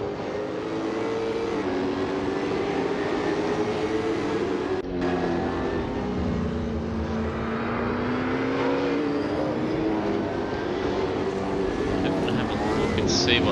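Supercars race cars at Sandown Raceway roar past with a continuous, loud engine drone that shifts in pitch as they accelerate and pass, heard from trackside with a commentator talking faintly underneath.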